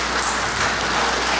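A town meeting crowd breaking into applause, a thick uniform wash of clapping from many people in a large room, steady and loud throughout.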